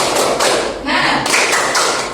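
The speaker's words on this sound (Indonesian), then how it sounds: "Satu kali lagi tepuk semangat." Children clap out the rhythmic Indonesian 'tepuk semangat' cheer in a classroom, a loud group of claps in short bursts and pauses, with voices mixed in.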